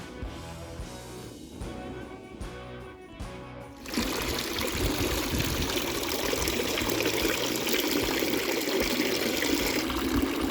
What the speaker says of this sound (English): it's got a little dish drying mat that catches the water and sends it on back into the tub